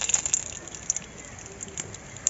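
Whole spices, bay leaves, a dried red chilli and a clove, crackle in hot oil with faint, scattered sizzling pops and small bursts, fairly quiet and close, with no talking.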